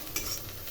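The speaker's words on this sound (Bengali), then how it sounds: "চিংড়ি মাছগুলো ভালো করে লাল লাল করে ভেজে নিচ্ছি।" Prawns frying in a pan until reddish, for a Bengali-style prawn curry with Malabar spinach; a short, steady close sizzle with a slight crackle near the start and no voices.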